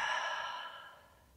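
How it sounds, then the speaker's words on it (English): A deep, breathy in-breath during a yoga wind release pose, close and soft, fading smoothly over about a second and a half. "One breath in."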